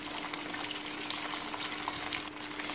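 Oyster mushrooms coated in beaten egg fry in hot oil over medium heat, giving a steady, dense crackle and sizzle close up, with no talk.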